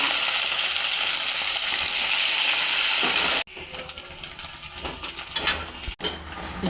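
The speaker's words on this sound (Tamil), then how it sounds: "இட்லியை வந்து நல்லா மொறுமொறுன்னு ஃப்ரை பண்ணி வச்சுக்கலாம்" Idli pieces frying crisp in hot oil in a kadai give a loud, steady broadband sizzle for about three seconds, then a quieter, uneven crackle with small bubbling pops.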